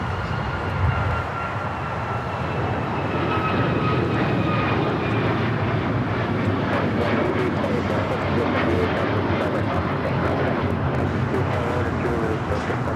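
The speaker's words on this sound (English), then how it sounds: "This is United Airlines 1293 taking off to Houston Intercontinental on the MAX 9" A United Airlines Boeing 737 MAX 9 taking off from Los Angeles for Houston gives a steady, loud jet engine roar that holds throughout, with a voice talking over it.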